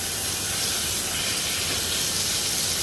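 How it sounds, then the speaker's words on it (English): Loud, steady sizzling hiss of sirloin steak searing in a very hot pan, continuous and close with no talking. "this is the sound that you need to show that it's searing"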